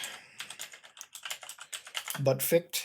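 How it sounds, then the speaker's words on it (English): Rapid typing on a computer keyboard, a close run of sharp irregular key clicks, with a brief burst of voice near the end. "That's my typing for today."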